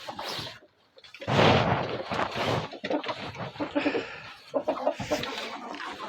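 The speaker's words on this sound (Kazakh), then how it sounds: "Қараңыздар қандай керемет тауықтар" Young hens cluck in a coop, murmuring bursts of close clucking and soft calls that come in uneven clusters, fairly quiet overall.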